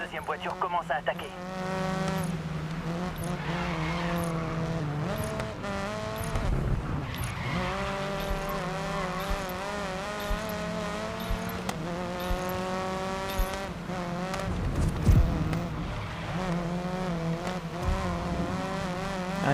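Race cars in the GRID Legends racing game, with a loud continuous engine whine and tire skids. Engine pitch rises and falls through gear changes, and a voice talks over it at times.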